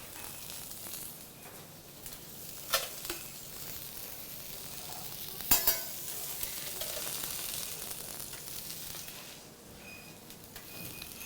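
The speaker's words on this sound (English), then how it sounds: "On the grill, the Guinea Fowl pick, breast, sorry. Yeah, a bisschen butter." Guinea fowl breast with a little butter sizzles steadily on a restaurant grill, with a continuous close frying hiss and occasional sharp clicks and clatters of kitchen utensils.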